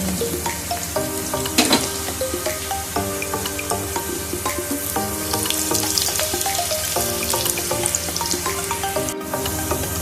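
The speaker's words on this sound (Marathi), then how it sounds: "सगळी भजी मी एकदा परत तळून" Onion bhaji deep-fried a second time in hot oil to crisp them, producing a dense, continuous bubbling sizzle with occasional louder pops, steady throughout under faint background music.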